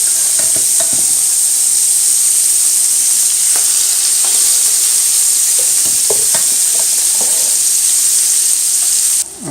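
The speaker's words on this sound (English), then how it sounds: "now that our butter is nice and melted, we can go ahead and start adding our shrimp" Shrimp sautéing in melted butter for shrimp Alfredo give off a steady, close hiss with a few scattered clicks and pops, with no voices.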